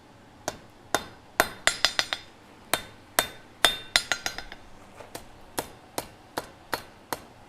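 Hammer forging metal on an anvil at a live gas forge giveaway, an irregular run of about twenty sharp, ringing strikes, some in quick bursts, close up with no talking.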